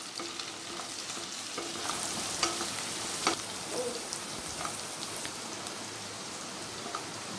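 Sliced onions frying in oil for a mutton keema biryani, a continuous soft sizzle with occasional scrapes and clicks as the pan is stirred, fairly close and steady with no voices.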